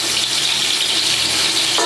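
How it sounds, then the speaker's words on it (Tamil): Water is poured or runs steadily during outdoor cooking of rice and onion for pongal, a loud, even gushing hiss with a brief change near the end and no voices. "தண்ணி ஊற்றி வரும்."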